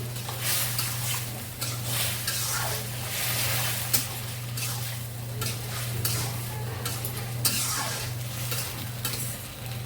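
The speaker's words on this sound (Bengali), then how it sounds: "সবজিটা দিয়ে এখন মিশাই দিচ্ছি" Vegetables being stirred and mixed in a frying pan, with steady sizzling and repeated scraping strokes over a constant low hum of the stove, close and continuous throughout.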